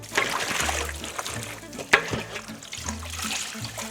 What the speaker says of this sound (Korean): 이제는 흐르는 물에 2, 3회 깨끗이 묻어있는 소금물을 헹궈내주세요